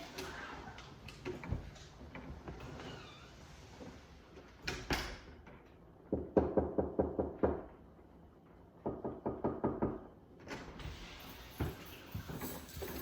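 Knocking on a home door during dog training, several bursts of quick, sharp raps close by, separated by quieter stretches of rustling and handling noises, no talk.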